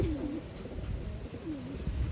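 A male black check pigeon gives two low, close cooing calls against a noisy background with a steady hum.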